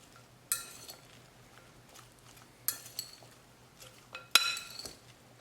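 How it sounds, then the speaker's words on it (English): Utensils clink sharply against a bowl as a cucumber, chickpea and ginger salad is mixed, with a few separate bursts of clatter and scraping over a quiet background. "Mix it."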